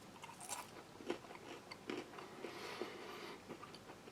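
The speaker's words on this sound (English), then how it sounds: "Let's try a little bit of this cracker. Still crisp and crunchy" Close-up biting and chewing of a crisp, plain wheat flour cracker from a Russian army 24-hour ration: quiet, repeated crunchy snaps and grinding chews at an irregular pace, with no talk.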